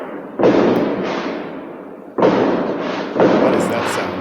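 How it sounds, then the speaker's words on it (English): Fireworks set off by neighbours outside boom as several loud, heavy thuds in two clusters, each blast followed by a rumbling decay, while a voice talks in the room. "They're launching fireworks for some reason."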